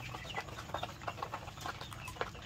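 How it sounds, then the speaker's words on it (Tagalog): Heritage-breed chickens, including a white Leghorn crossed with Orpington, feeding in a farm pen, with a busy patter of quick pecks and soft clucks close by, irregular and continuous throughout. "lahat ng mga manok dito ay tumutuka"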